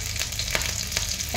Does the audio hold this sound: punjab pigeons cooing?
no